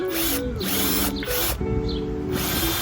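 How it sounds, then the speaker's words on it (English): A power drill bores a pilot hole for a screw near the edge of a wooden board, a steady whirring motor tone held close and loud for nearly three seconds with slight pitch dips as the bit bites. "pre-drilling the hole is needed to prevent split."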